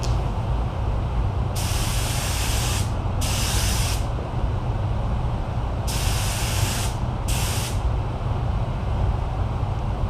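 Spray gun laying light coats of carbon film coating, a steady hiss with two pairs of brighter, sharper bursts as the trigger is pulled, close and continuous.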